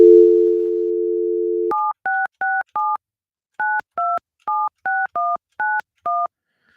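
A telephone dial tone hums steadily for nearly two seconds, then a call is dialed with eleven crisp, evenly clipped DTMF keypad beeps in quick irregular bursts, loud and close with no talk.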